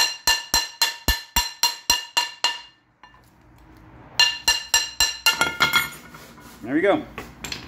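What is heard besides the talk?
hammer tapping brake disc off Triumph Spitfire hub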